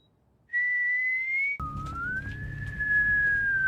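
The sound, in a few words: whistling in a Korean horror film, Exhuma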